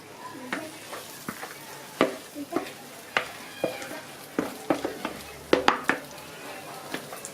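Thin dough batter is spread across a hot pan, with a soft background sizzle broken by repeated close scraping and tapping clicks of the spreading utensil, irregular and fairly sharp.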